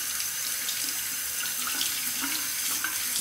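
A Muhle R41 safety razor is rinsed under a running bathroom tap, giving a steady, close, hissing rush of water that runs without a break and with no voices.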